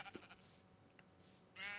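Sheep in Minecraft bleat in a few short calls, close and fairly faint, with quiet game sounds between them.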